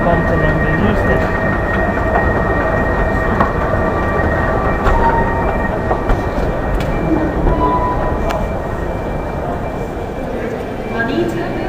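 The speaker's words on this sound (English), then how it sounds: "There's my train there." A train rolls through a railway station on a line running to London Euston, a loud, continuous rumble of wheels and carriages with faint high squeals, steady throughout the whole stretch.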